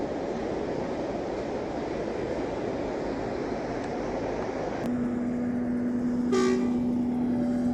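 A train bound for Vientiane rumbles steadily near a station in Nong Khai, Thailand, then a long, loud horn blast sounds and holds to the end, with a brief higher squeal partway through.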